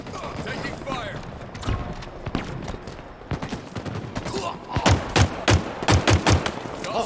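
Gunfire in Halo Infinite during a big-team battle: bursts of shots build into a run of loud, evenly spaced heavy blasts near the end, with announcer voice lines and game sounds underneath.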